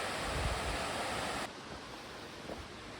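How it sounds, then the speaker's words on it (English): Waterfalls on Copper Creek Trail in Olympic National Forest near Hoodsport roar as a steady broadband rush, loud at first and then dropping to a softer, more distant wash. "this also is a very pretty view of the waterfalls"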